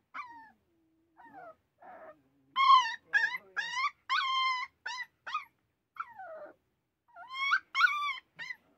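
A female dog whimpers and whines in a string of high, tremulous cries, some rising to yelping howls, close and fairly clear against a quiet background, with short pauses between bursts.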